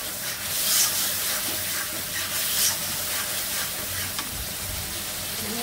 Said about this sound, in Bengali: এখন জিরা ধনিয়ার গুঁড়া দিয়ে দিলাম, দিব হলুদের গুঁড়া। মশলা থেকে তেল বের হয়ে আসলে আমি তরকারি দিয়ে দেবো।